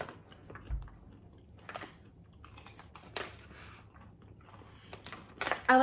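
Carnivore crisps made from beef top sirloin being chewed close up, giving a few scattered crunchy bites with quiet pauses between them.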